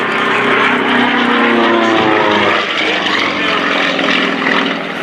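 A single propeller aerobatic plane flying an airshow routine at the 2024 MCAS Cherry Point Air Show, its engine droning loud and continuously with shifting pitch through the maneuvers.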